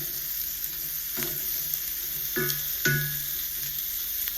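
Steak sizzling in a frying pan, a steady hiss of frying fat throughout with a few brief clinks and scrapes of a utensil against the pan, close and continuous.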